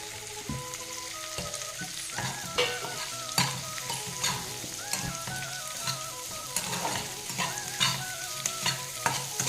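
Capsicum being stirred and fried for chilli chicken in a pan, with a steady close sizzle broken by repeated scraping and clinking strokes of the spoon against the metal, and no voices.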